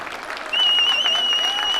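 Applause from a crowd at a village festival in KızılHüyük, a dense clapping texture that swells louder partway through, with a whistle-like tone and murmuring voices mixed in.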